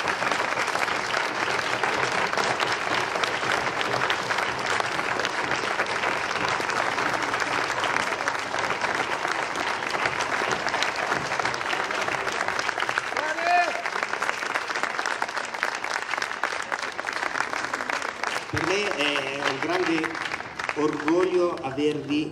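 Long, thick applause from a large outdoor audience at a gala concert in a park in Arenzano, steady and loud throughout, with a voice rising over the clapping near the end.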